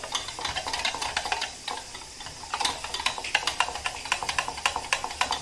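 Batter is stirred briskly in a bowl, with a quick, steady rhythm of soft clicks and scrapes as the whisk strikes the sides.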